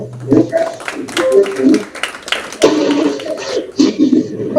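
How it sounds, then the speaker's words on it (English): Audience applause at a child protection project launch, a dense patter of hand claps running through the clip, mixed with voices talking over it. "I think we need a round of applause for ourselves"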